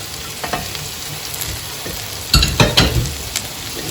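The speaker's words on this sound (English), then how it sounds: "The flame is still on high, so I'm just gonna fry these up now with all the ingredients." Boiled rice is stir-fried with the other ingredients for egg fried rice over a high flame, a close sizzle broken by a few louder scraping stirs of the spatula near the end, with no voices.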